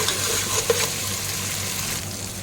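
Shrimp and fish fry in a pan while being mixed, a loud, steady sizzle with a brief scrape or clink of stirring early on.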